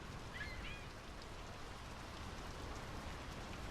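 Steady rain falls in the video game Draugen, a soft, even hiss of drops on surfaces that continues without break, faint and unaccompanied.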